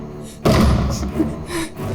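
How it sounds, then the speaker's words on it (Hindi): A door is struck in a crime drama scene, one loud heavy thud followed by softer bumps, close and forceful, with a brief voice between the blows. "दरवाजा खटखटाना बंद करो।"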